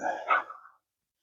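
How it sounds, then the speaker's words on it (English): A short burst of dog barking, one or two rough barks close by, then silence. "the strange sound of dogs barking around here"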